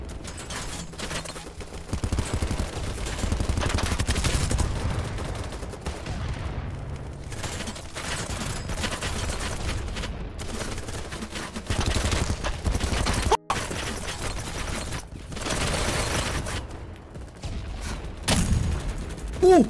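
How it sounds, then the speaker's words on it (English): Near-continuous video game gunfire from an unrestricted shooter rattles in dense automatic bursts, mixed with explosions and sharp hit marker ticks, staying loud throughout with a brief drop near the middle. "That was a juicy hit marker sound."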